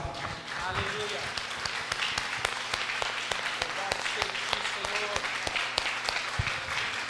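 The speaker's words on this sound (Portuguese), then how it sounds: "Dê melhor salva de palmas." A church congregation breaks into applause, dense rhythmic clapping with sharp individual claps standing out, steady and close throughout, with voices and a sustained musical tone underneath.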